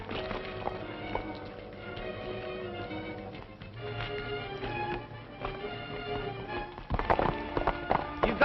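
Horses hurry off in a 1930s Western film scene, with a steady patter of hoofbeats under a thick orchestral score that swells near the end.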